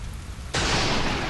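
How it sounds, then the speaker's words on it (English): Rain in the jungle of the video game Metal Gear Solid 3 starts abruptly as a loud, steady hiss of falling drops after a moment of quieter ambience, with no voices. "Oh wow, it's raining."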